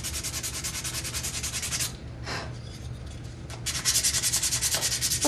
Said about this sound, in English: So we're going to sand that down.